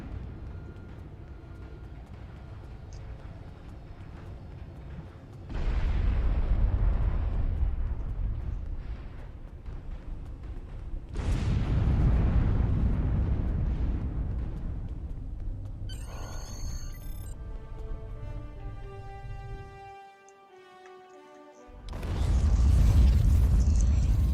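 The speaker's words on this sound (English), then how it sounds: "the explosion will actually be rather contained" Explosions in the video game Star Trek Online come as three heavy, rumbling booms several seconds apart. Each swells into a long, deep roar. Between the second and third, a tonal whine with ringing overtones sounds over a sudden brief drop to near silence.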